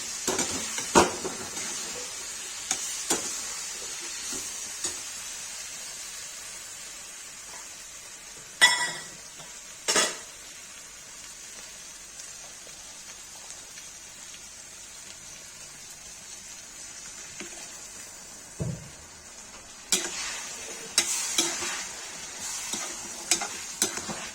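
Ground tomato puree goes into a frying pan of eggplant curry and is stirred, giving a soft steady sizzle with occasional scraping clatters of the spoon against the pan, no voices.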